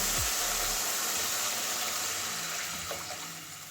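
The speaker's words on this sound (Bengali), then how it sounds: "এবারে জল দিয়ে দেবো" Water poured into a simmering potato kofta curry made with gram flour, a steady broadband splashing rush that starts loud and slowly thins out, with no talk.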